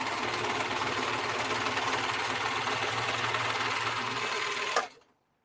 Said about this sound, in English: I have a relevant serger again.